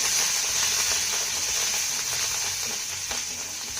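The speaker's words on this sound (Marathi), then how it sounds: "आता ही फोडणी आपल्याला एकदा चांगली परतून घ्यायची आहे." A tempering of mustard seeds, cumin, chopped green chillies and a little coriander sautéed in hot oil gives a steady, moderate sizzle with light stirring scrapes throughout.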